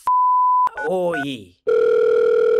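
A telephone dial tone holds steady, then a rapid run of touch-tone dialing beeps follows, and after a short silence a steady ringback tone sounds; a voice reads out the digits over the beeps.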